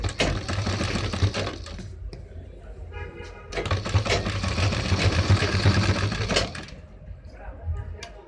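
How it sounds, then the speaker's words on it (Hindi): Sewing machine stitching a gents kurta: steady close mechanical whir with brief pauses, and a voice speaking over part of it. "मार्जिन को अंदर करने के बाद में इस पर हम लब की सिलाई लगाएंगे"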